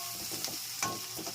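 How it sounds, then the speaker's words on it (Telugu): Turmeric and asafoetida fry in hot oil, a soft steady sizzle with faint stirring taps and a sharp clank at the very end, heard alone with no talking. "పసుపు ఇంగువ వేసుకొని వేపుకుందాము."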